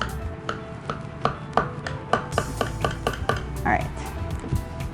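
A knife cuts down through a slice of chicken quiche lorraine with a cheesy filling, giving a run of sharp, close taps and scrapes against a dish, steady through the middle and ending with a softer scrape.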